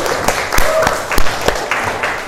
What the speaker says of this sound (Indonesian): Ayo kita tepuk tangan untuk kalian semua